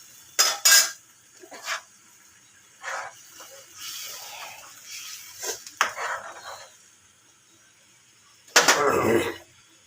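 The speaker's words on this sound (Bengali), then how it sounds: "ঢেলে দিয়ে এবার জল দিয়ে ভালো করে কষিয়ে নিচ্ছি।" A green fish curry with fresh coriander and water is stirred in a pan, giving separate clinks and scrapes of a utensil against the metal with quiet gaps between them and a louder scrape near the end.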